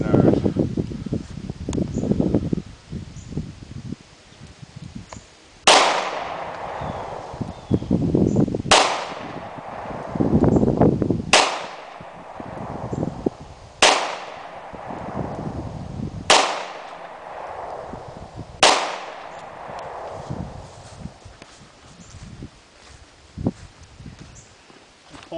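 Six loud, sharp revolver shots from a Ruger LCR chambered in .327 Magnum firing .32 H&R Magnum rounds, spaced a few seconds apart outdoors, each with a short ringing decay, with rustling and handling noise before the first shot.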